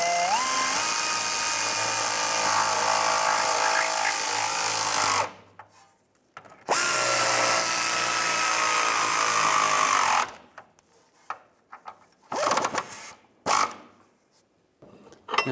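A power drill tightens bolts on the spare tire carrier of a 2002-2009 Chevrolet Trailblazer, with two loud sustained whirring runs of about five and four seconds, each ending abruptly, followed by quieter clinks and short bursts.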